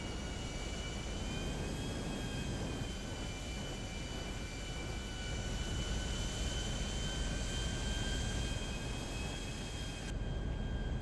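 An expensive jet airplane in GTA 5 Online gives a steady, droning engine roar with sustained whining tones, loud and unbroken for the whole stretch.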